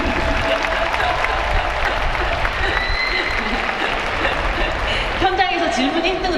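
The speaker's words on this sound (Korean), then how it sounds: "박수 한번 좀" Audience at a Busan International Film Festival open talk for the film Broker claps steadily for several seconds, a dense even patter, while a voice speaks over it and a brief tonal sound rises near the end.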